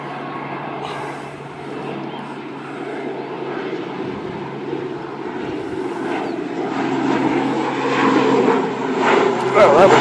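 A DHL cargo aircraft at Christchurch Airport, New Zealand, rumbles with a broad engine roar that builds steadily and grows louder toward the end, while people talk over it.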